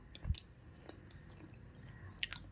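Someone close by quietly chews a bite of no-oven dessert cake, giving soft, moist mastication sounds with a few faint crunchy bites in a calm, quiet room.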